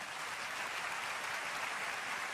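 Congregation applauding in a church service to welcome the pastor's wife, a steady dense wash of clapping that holds evenly throughout with no break.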